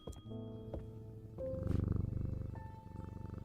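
A cat purrs in the video game Strange Antiquities, a low rhythmic pulsing rumble that swells in the middle, set over soft layered ambient game tones.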